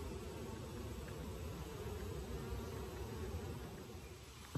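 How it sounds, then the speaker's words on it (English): Bees buzz in a dense, continuous drone while being shaken inside a Varroa Easy Check mite-testing jar, a faint, even hum with no talk. "All right, so we're shaking the bees gently here."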